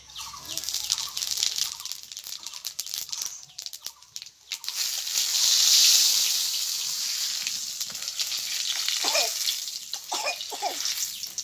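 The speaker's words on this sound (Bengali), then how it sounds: "ফোড়নে দেবো জিরে" Steady hot-oil sizzle crackles throughout, loud and close, with a brief swell in the middle as cumin seeds fry in mustard oil in the pan; no one speaks.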